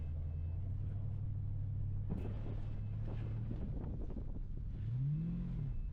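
A car with a failing transmission that won't hold gear strains in second, a steady low engine drone with a rising, wavering whine near the end, close and continuous under wind rumble.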